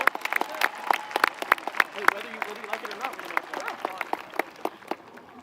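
A high school graduation audience for the class of 2023 applauds: scattered, uneven clapping from many hands in a hall, moderately loud with sharp individual claps, gradually thinning out toward the end, with murmured voices underneath.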